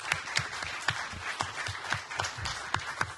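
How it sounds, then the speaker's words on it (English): Scattered clapping from a small audience after a research panel discussion at a talk, sparse individual claps in loose rhythm, moderately quiet and close, with no voices over it. "If you'd join me in a round of applause for the panel."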